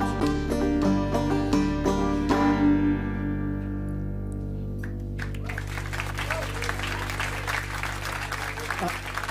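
A live band plays its final chords on stage, then a crowd breaks into steady applause that carries on for several seconds while someone talks over it.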